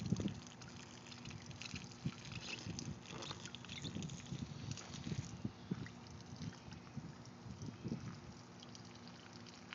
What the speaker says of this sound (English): This is water just sprayed up onto the beach.